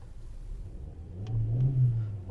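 A Volkswagen Touran 1.6 MPI engine runs nearby, with a low steady hum that swells briefly into a rev before settling back.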